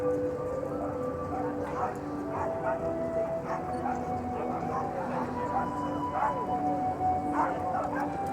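A dog whimpers and yips in short repeated bursts amid a busy outdoor crowd at a goth weekend in Whitby, with people talking throughout.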